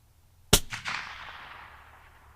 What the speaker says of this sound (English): Felt like a good shot.